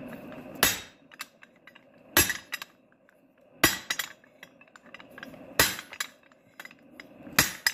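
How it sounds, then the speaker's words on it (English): A hammer forges hot steel over flat dies and a guillotine tool, five loud ringing metallic blows evenly spaced about every second and a half, each trailing off into small clinks and quiet between strikes. "now I'm going to use the flat dies and the guillotine"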